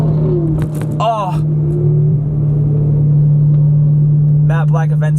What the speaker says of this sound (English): Matte Black Aventador SV just went by. Dang, that sounded crazy.